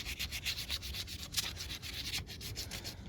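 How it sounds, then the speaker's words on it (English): Hand sanding a vehicle wheel with sandpaper gives a steady rhythmic scratching of quick back-and-forth strokes, close and moderately loud, with no voices. "The reason why you've got to use sandpaper, you've got to create a key for the paint to stick, otherwise it'll peel off"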